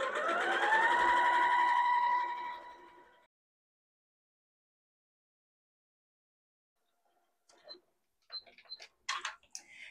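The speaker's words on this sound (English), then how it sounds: "Now I'm going to use a 1/4-inch seam allowance and stitch down that right" A sewing machine stitches a quarter-inch seam along a tote bag strap edge, a fast close whirring run of about three seconds that stops, followed later by a few faint clicks and taps.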